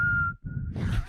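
A person whistles a short tune, one clear sustained note with a brief break, then a breathy rise at the end.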